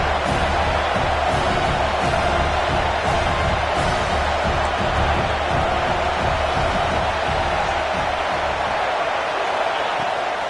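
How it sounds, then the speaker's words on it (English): A football stadium crowd roars in a dense, steady wash of cheering for the whole stretch, loud and unbroken, with no distinct voices standing out. "this crowd is turning it up a notch"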